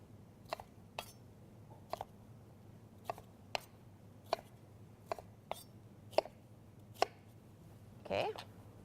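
Vegetables chopped into big chunks on a cutting board, about a dozen sharp, evenly spaced knife thuds close by, followed by a brief rustle at the end over a quiet kitchen hum; no talk.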